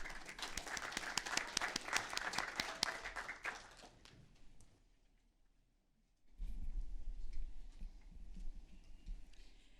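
An audience at a city council meeting breaks into a brief round of clapping that fades out after about four seconds, followed by a quiet pause and then low room rumble.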